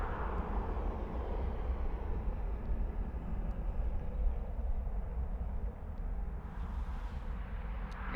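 Ryanair jet airliner making a rolling start for takeoff at Dublin Airport, a steady, distant broadband engine roar rumbling throughout without voices.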